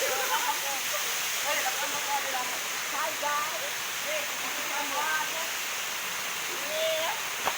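A waterfall on a river outing gives a steady, loud broadband rush of falling water throughout, with bird calls chirping on top and no clear talk.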